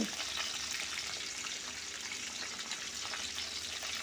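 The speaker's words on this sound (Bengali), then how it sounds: "মাছগুলো আমি একটু কড়া করে ভাজবো" Fish frying hard in well-heated oil in a wok, a steady, dense crackling sizzle that holds evenly throughout with no voices.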